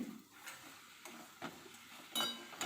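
Fish head muri ghonto stirred in a pan, a quiet scene of soft scraping strokes and a few metallic spoon clicks against the pan over a faint simmer, with no speech.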